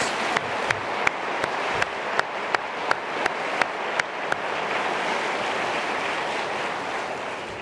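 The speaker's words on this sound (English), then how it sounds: "Please join me in a round of applause in recognition for these teams" Steady applause fills a large conference plenary hall in recognition of cystic fibrosis care center teams, a broad even wash of clapping with sharp regular knocks punctuating its first half.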